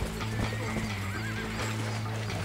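A horse in the video game Red Dead Redemption whinnies loudly while its hooves clip-clop steadily nearby, with continuous game ambience underneath.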